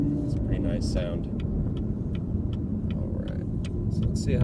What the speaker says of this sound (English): You can hear that engine purring.